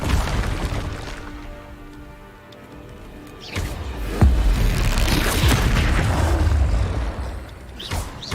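A Bombarda blasting spell from Hogwarts Legacy: after a quiet stretch with faint ticking, a heavy close boom breaks out, followed by rumbling debris and crackle that fade, then a smaller burst.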